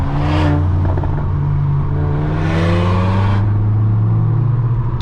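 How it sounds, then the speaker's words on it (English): A car revs hard through a newly fitted exhaust, its engine note rising and falling in loud, continuous sweeps close to the microphone, with no talking. "This is just a showcase of the new exhaust."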